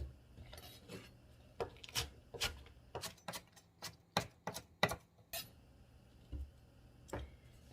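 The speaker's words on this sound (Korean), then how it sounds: "파란 잎 부분도 좀 썰어주시고" A knife slicing green onion leaves on a cutting board, a run of about a dozen crisp, close taps in an uneven rhythm with quiet pauses between.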